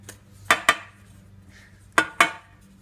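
Metal baking pans are rapped against a surface to knock out excess flour, two pairs of sharp, close metallic bangs separated by a short pause, with no voices.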